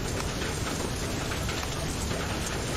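Rain and hail in the video game FAR: Lone Sails: a dense, steady hiss of drops drumming on surfaces, loud and continuous with no speech over it.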